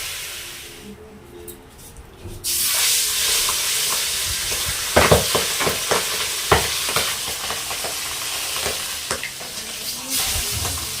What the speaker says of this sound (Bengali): বিশাল ফাটছে, দাঁড়িয়ে দাঁড়িয়ে ফাটছে। চাটাপাটা করে ফাটছে।